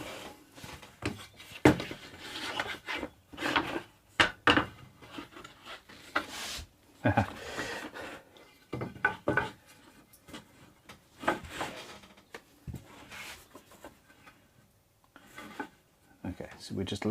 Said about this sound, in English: mark out where the nut is going to be